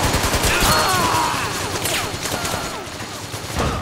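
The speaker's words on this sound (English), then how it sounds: "Stop shooting around the stairs." Bursts of gunfire, some rapid and automatic, ring out around a stairwell in the video game Metal Gear Online. The shots are dense and continuous, with faint talk underneath.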